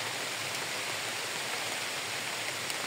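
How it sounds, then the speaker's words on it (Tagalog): Rain falling steadily outdoors, a dense even hiss with faint drip accents, constant and moderately loud across the whole stretch with no voices over it. "Ayun na naman ang ulan. Ulan."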